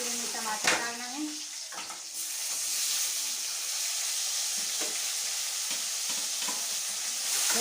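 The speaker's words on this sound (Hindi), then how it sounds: "अगर फोरन अच्छे से भुना रही, फिर इनमें टमाटर डालना है।" Spices and onions tempering in a pan with green chillies: a close, continuous hiss and sizzle, with a few stirring scrapes and a brief vocal sound at the start.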